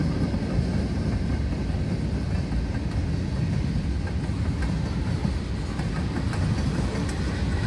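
Freight train M364 with 522 axles rolls past in Voorheesville, a continuous heavy low rumble with faint rhythmic wheel clatter, steady and fairly close throughout with no talk.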